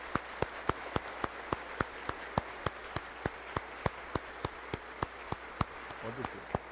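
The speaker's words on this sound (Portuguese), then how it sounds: "uma bonita salva de palmas" A Catholic Mass congregation applauds young people, their parents and their catechist with steady rhythmic clapping in time, soft and somewhat distant over a hiss of room noise, with a brief low voice near the end.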